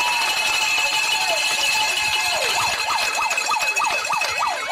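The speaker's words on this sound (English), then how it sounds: "Yep, we got sirens." Emergency vehicle sirens sound near a varsity softball playoff game between French Settlement and Pine Prairie: first a long steady wail, then a rapid up-and-down yelp repeating about twice a second, loud and persistent over crowd background.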